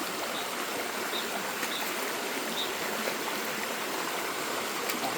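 Rainwater runs steadily like a stream during a typhoon, a constant rushing wash with no pauses and no voices over it.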